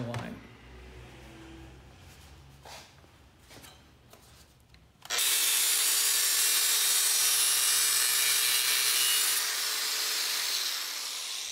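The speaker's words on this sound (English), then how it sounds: "I'm going to use the mini grinder and a piece of strap to guide the edge of the mini grinder" A mini grinder cuts through sheet metal for a toolbox, guided along a strap, starting abruptly as a loud, steady, high-pitched shriek that runs continuously after some quieter handling noises.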